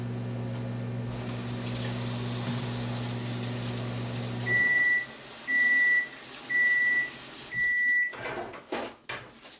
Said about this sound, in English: there is the microwave beeping